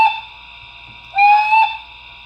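Whistle on an LGB Stainz model locomotive fitted with a Zimo MS450 sound decoder: a brief toot at the start, then a longer steady two-tone blast about half a second long, loud and close with a faint background hum.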